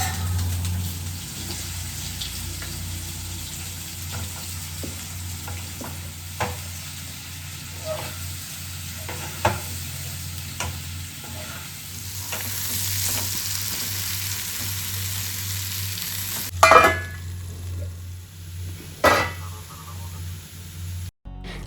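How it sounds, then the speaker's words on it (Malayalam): Mustard seeds frying in a generous pour of coconut oil in a home kitchen: a continuous sizzle with scattered sharp pops and crackles, nearby and moderate, with a couple of louder clatters toward the end. "കുറച്ച് വെളിച്ചെണ്ണ ഒഴിച്ചിട്ട് കടുകിട്ട് പൊട്ടിക്കും"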